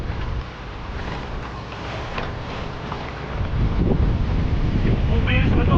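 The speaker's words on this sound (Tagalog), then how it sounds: "Lakas ng hangin." Strong wind gusting at a sandy beach resort in Nasugbu, Batangas, a loud blustery roar buffeting the microphone and building toward the end, with brief voices underneath.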